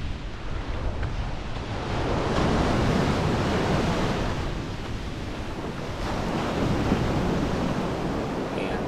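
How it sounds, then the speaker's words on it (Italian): Rough sea waves at Numana crash and wash in a constant loud roar of surf mixed with gusty wind buffeting the microphone, with no voices. "Andiamo a goderci il mare mosso da un punto di vista particolare, ovvero quello del salvamento, ovvero dei bagnini."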